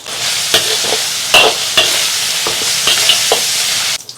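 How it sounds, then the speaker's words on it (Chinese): Chilli bean paste, scallion, ginger, garlic and whole spices are stir-fried in hot oil in a wok: a loud, close sizzle punctuated by repeated sharp scrapes and clanks of the spatula, with no voices. "锅中加油，葱姜蒜爆香，1勺豆瓣酱，炒出红油。"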